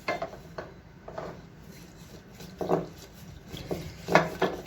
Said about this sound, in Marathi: आता हे छान मी असं रवीने घुसळून घेणार आहे